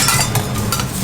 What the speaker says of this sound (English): They look super juicy, they're just sizzling away.